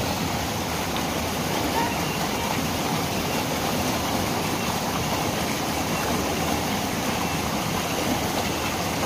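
Ditumabo Falls, the Mother Falls in Aurora Province, roars as a steady, loud, dense rush of falling water heard up close, unbroken for the whole stretch.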